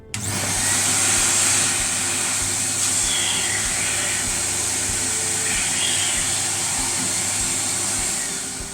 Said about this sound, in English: I'm just going to use a hoover to suck up any of the dust.